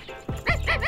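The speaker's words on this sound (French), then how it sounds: "Allez, Toutou, allez, mon chien" A dog gives a few short, yappy barks or yips, close and fairly loud, in quick succession.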